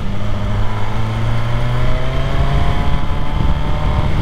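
An MV Agusta Brutale 1000RR motorcycle engine revs up close as the throttle is opened, a loud, steady, rising drone with no one talking.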